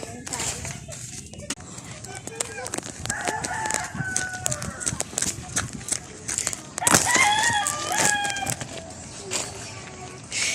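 Chickens cluck and a rooster crows repeatedly nearby, with people talking over the birds throughout.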